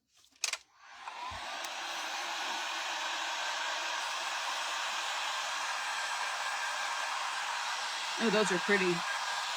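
A hair dryer runs steadily for several seconds, drying freshly painted craft pieces made with an IOD mould, a loud continuous whoosh after a brief bump at the start; someone speaks briefly near the end over the blowing.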